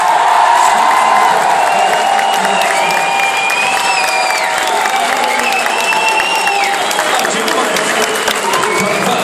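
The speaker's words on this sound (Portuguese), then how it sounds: "Então tem que ganhar mais palmas porque os caras são foda" A festival audience at YouPIX Festival São Paulo 2013 applauds and cheers in a dense, sustained roar, with scattered high whistles and whoops running through the crowd noise.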